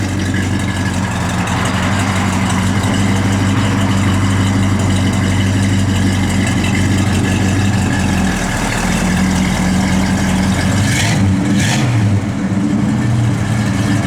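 A 1972 Oldsmobile Cutlass Supreme engine with dual exhaust runs steadily, a loud close deep idle with a low rumbling drone that wavers slightly near the end.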